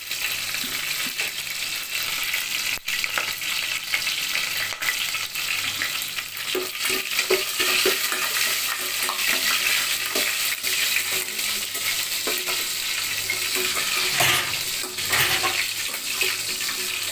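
Cumin seeds fry in hot oil for a Tamil drumstick sambar, a continuous close sizzle with scraping stirs and occasional clicks of a spoon against the pan, no talk.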